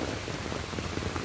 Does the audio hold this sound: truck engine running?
no